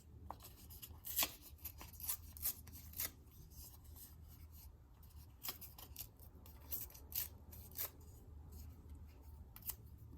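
Green paper is ripped by hand into small strips for a torn-paper tree collage, giving a series of short, close rasping tears at an irregular pace with quiet gaps between them.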